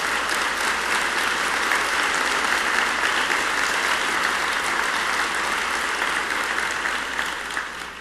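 A large conference audience at a plenary session on lung transplantation clapping, dense and continuous applause that holds steady for several seconds before tapering off.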